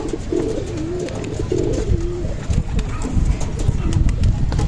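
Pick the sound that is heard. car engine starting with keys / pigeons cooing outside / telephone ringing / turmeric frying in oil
pigeons cooing outside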